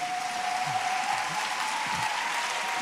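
Steady applause from a church congregation fills the whole stretch, a dense even patter with no voices standing out.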